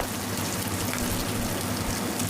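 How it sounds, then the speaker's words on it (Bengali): Hilsa fish heads fry in hot oil in a pan, a dense, constant close sizzle and crackle with no pauses and no voices. "মাছের মাথাগুলিকে আস্তে আস্তে উল্টে পাল্টে ভেজে নিচ্ছি ভালোভাবে ভাজা হওয়ার জন্য"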